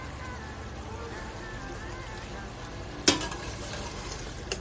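Beef keema with whole spices frying in a pan, a steady low sizzle with a sharp clatter of the spoon stirring near the middle, fairly quiet and even throughout.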